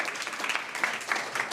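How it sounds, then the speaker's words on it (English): Round of applause from the audience at a youth entrepreneurship programme launch, a fairly faint, quick patter of many hands clapping continuously. "Can we please also give them a round of applause?"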